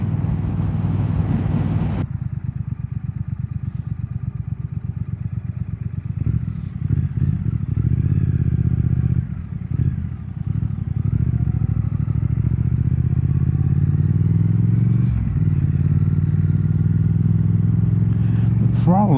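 A Triumph Speed Twin 1200 parallel-twin motorcycle on the move, its engine a steady loud drone that rises and falls with throttle changes under heavy wind rush, with no talk.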